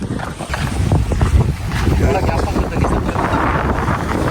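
Steady low rumble of a boat engine with wind buffeting the microphone and water noise, voices talking over it.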